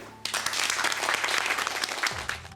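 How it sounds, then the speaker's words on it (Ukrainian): Audience applause during a behind-the-scenes look at a Ukrainian TV channel, a dense burst of clapping that starts abruptly and fills the room steadily for a couple of seconds before fading. "Аплодисменти."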